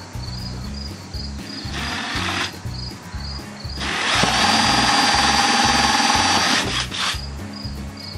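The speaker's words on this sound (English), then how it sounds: "I got this 3/4 inch hole saw, and by the way, this is CPVC, not PVC" A 3/4 inch hole saw on a power drill cutting through CPVC pipe, a steady whirring grind with a rhythmic chattering pulse that rises into a louder continuous cut midway, close by with no talk.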